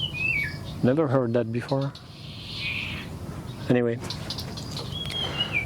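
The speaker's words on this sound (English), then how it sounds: "there is some interesting bird noises right there" Birds call outdoors in a few short, rising chirping bursts and a faint whistle, over steady background noise while someone talks.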